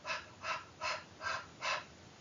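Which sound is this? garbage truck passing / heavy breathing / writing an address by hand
heavy breathing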